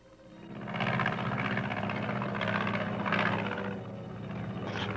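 Aircraft engine drone swells in as an airplane flies over a testing field, a steady throbbing hum that rises and lingers at moderate distance with no talking.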